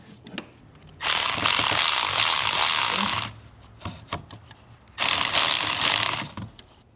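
A ratchet on double 8-inch extensions, used while working on a Ford 6.7 Powerstroke diesel, clicks rapidly in two loud bursts of about two seconds each, separated by a quiet pause.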